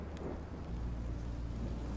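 Rain and thunder in the Minecraft Story Mode video game, a steady rushing downpour with a low rumbling roll of thunder swelling underneath, continuous and fairly soft.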